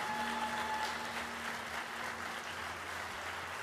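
Faint audience applause at a Teacher of the Year ceremony for teacher Jennifer Brown, a steady wash of many hands heard from a distance for a few seconds.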